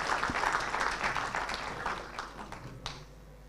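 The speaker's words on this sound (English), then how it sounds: "Another round of applause for the PSST, ladies and gentlemen." An audience at a university launch event gives a dense round of applause that fades out over a few seconds, with a few crisp individual claps near the end.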